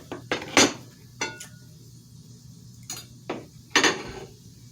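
A Rock Crock Everyday Pan handled in a kitchen, producing scattered clanks and metallic knocks, about seven separate hits with quiet gaps between them, close and clear with no talk.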